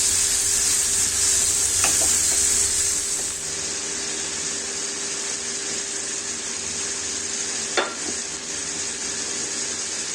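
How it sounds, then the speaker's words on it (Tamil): Onions and tomatoes sautéing in a pan for sambar give a steady, close sizzle and hiss throughout, with a couple of brief stirring clinks and no talking. "வெங்காயம் கண்ணாடி பதத்துக்கு வந்ததும் நம்ம கட் பண்ணி வச்சுருக்க தக்காளி சேர்த்துக்கலாம்."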